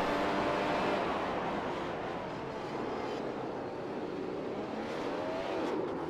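In iRacing, a McLaren MP4-30 Formula One car accelerates in first gear at Suzuka, a dense, steady engine roar with a faint rising pitch, loud and constant throughout.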